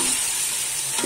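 Garlic ginger paste frying in hot oil, a steady close sizzle with light stirring.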